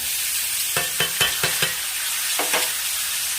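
Chopped beetroot and carrot with salt are stir-fried in a hot pan, a steady close sizzle broken by a quick run of five sharp scraping stirs, then two more after a pause.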